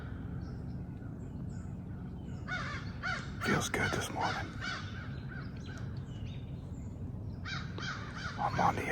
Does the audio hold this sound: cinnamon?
no